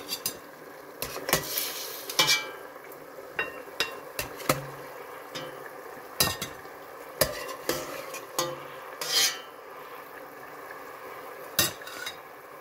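Metal utensils clink and scrape inside a cooking pot as tender meat pieces are lifted out while making Senegalese tiébou yapp, with irregular close knocks and short stirring scrapes over a soft simmer, no voices.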